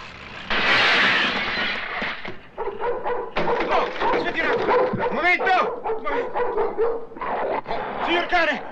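A dog barks and yips repeatedly in a comic Italian film scene, loud and close, with voices and commotion around it.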